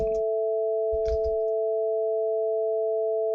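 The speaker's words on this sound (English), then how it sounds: "Now it's going to play a sine wave." A steady 440 Hz sine tone from the Synte synthesizer holds unbroken at constant loudness throughout, with two brief noisy clicks near the start.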